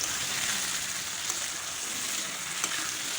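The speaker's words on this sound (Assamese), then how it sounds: "গৰম তেলত পিঁয়াজ জলকীয়া দি দিলোঁ" Pork sizzles in hot oil with onion and chili, a steady, fairly quiet crackle of frying that carries on without a break and with no voices.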